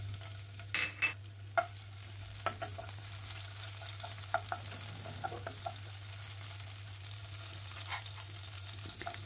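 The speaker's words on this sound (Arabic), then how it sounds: "في مقلاة نضع الزيت يسخن، نضيف القليل من الفلفل الحار" Chili pepper frying in hot oil in a pan, a faint steady sizzle running throughout with a few soft clinks of a utensil near the start.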